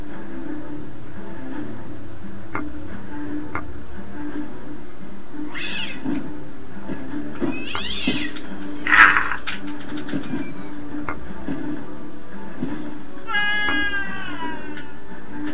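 Cartoonish cat meows and yowls sound out in the Rock of Ages 2 video game level Desert Roller, with several separate calls spread over a steady mechanical game backdrop, one sharp burst near the middle and a wavering cry toward the end.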